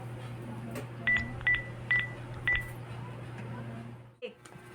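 Telephone keypad dialing tones beep four times in a steady, evenly spaced sequence over a low hum, as someone calls a store security guard, followed by a brief handling clunk.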